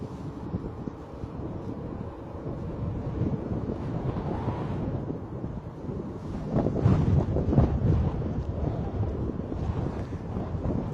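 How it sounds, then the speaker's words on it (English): Strong wind buffets a furry-muffed microphone outdoors at Bristol Airport, a continuous low rumbling roar that swells louder in the second half, with no other clear sounds. "the wind is blowing something chronic today"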